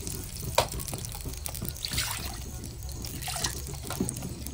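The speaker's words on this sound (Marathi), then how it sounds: "पाणी थोडाच घाली, मासे शिजणे इतके." Water is poured into a pot of cooking freshwater fish, a steady trickle and splash running for several seconds at close range with some light clatter.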